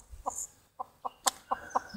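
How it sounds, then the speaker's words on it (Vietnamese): A mother hen stirs on her nest of eggs in a garden, giving a series of short, soft clucks spaced irregularly, close by and alone. "con gà mái mẹ đã động và nó bắt đầu chuẩn bị nhảy ra"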